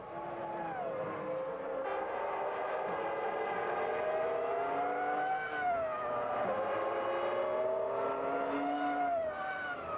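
Formula 1 race cars at the 2000 Italian Grand Prix scream past in a continuous high-pitched engine wail, tones rising and falling through gear changes and overlapping cars, heard at a distance and without talk.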